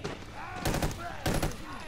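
Gunfire exchange in The Evil Within 2, two short loud bursts of rapid shots a half second apart, with distant combat noise and murmured speech around them.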